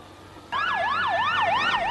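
An ambulance siren suddenly starts up after the 2004 Madrid commuter train bombings, wailing up and down in a loud, rapid, rising-and-falling pattern without pause.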